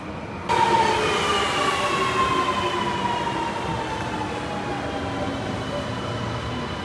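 A Sydney Metro train runs along the track, a loud continuous rumble with a high gliding whine that descends slowly, steady throughout with no voices.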